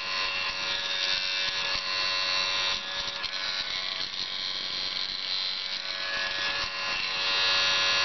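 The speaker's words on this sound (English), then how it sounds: "I plugged in my little ceramic heater. It's a loud little bugger." A small ceramic space heater runs loudly with something striking its fan, giving a steady, dense whir with a rough, buzzing rattle that holds without a break from start to finish.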